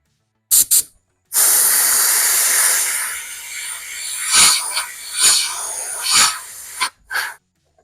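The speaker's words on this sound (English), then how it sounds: "then we'll start spraying our main body color. Just straight black. This Createx opaque black" Createx opaque black body color is sprayed onto an RC speed-run car body. Short hissing bursts come first, then a long steady spray, followed by several brief puffs, all close with silent gaps between them.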